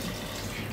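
Water is poured into a pot over sautéed pork ribs, making a continuous, even splash and gurgle like water running from a tap. It is brief and moderately quiet, with no voices.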